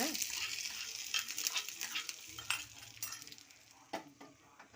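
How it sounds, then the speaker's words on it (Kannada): Ghee tempering with mustard seeds, curry leaves and dried chillies for a hibiscus tambuli: lively crackling and sizzling up close, with sharp pops and a few spoon clinks against the pan. "ಕರಿಬೇವು ಎರಡು ಒಣಮೆಣ್ಸಿನ್ಕಾಯಿ ಹಾಕಿ ಒಗ್ಗರಣೆ ಮಾಡ್ತಾಯಿದ್ದೀನಿ"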